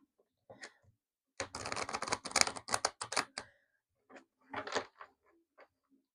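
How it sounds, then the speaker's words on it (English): Tarot cards riffle and flick in short bursts, one long shuffling rustle followed by a few quicker snaps, close up and otherwise quiet. "I shuffle with the cards away from me so I can't see them"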